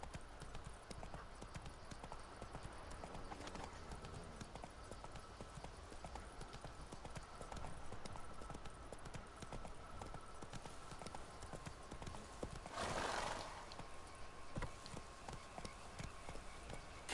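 Hoofbeats of Roach, the horse in The Witcher 3, galloping steadily throughout under a faint game soundtrack, with a brief louder burst of noise near the end and occasional low speech.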